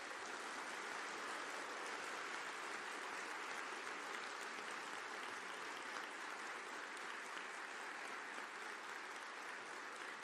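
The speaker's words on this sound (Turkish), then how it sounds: "Şimdi bu kadar yüksek sesle alkışlıyorsunuz" An audience at a political party group meeting claps in a dense, continuous roar of applause that holds steady and faint throughout, with no talking over it.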